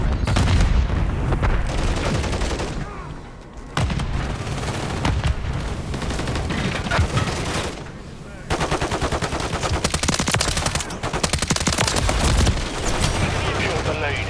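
Bursts of AM9 submachine gun fire in the Modern Warfare 3 video game, loud and nearly continuous rapid automatic shooting with brief pauses, booming impacts and game effects layered throughout.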